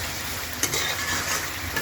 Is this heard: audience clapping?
no